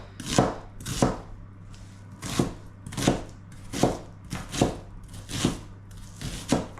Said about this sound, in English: I'm using 1 onion. So still cutting.